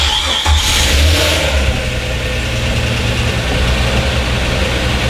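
A 1999 Jeep Wrangler TJ with a replacement engine fires up and runs, its engine loud and close with a rough, steady idle and a brief early rev.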